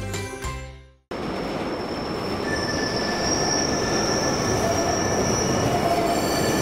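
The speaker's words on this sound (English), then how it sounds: "Train station or railway station?" A train at a railway station, its wheels squealing in long, high, steady tones over loud, continuous rolling rumble; a brief different sound and a moment of silence open the clip before the train noise fills the rest.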